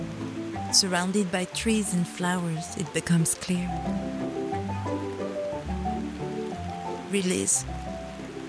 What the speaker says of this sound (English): Under the hammering rain